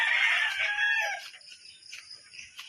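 Backyard pet chickens: a rooster crows loudly up close in one drawn-out call, then quieter hens cluck briefly in the background.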